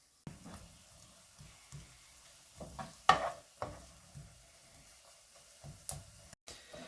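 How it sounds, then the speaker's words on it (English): Sliced onions frying in a pan while being stirred, a quiet sizzle broken by irregular scraping and tapping strokes of the utensil, close up and without talk. "onion slices are coming along nicely. Just make sure to stir them pretty often."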